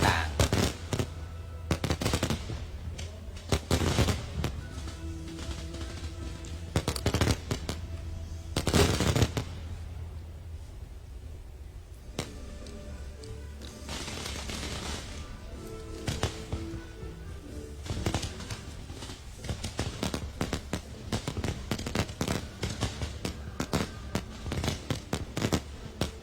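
Fireworks bursting during a Lao National Day celebration, a long run of loud crackling volleys and booming reports with brief lulls between salvos, heard from a crowded field at night.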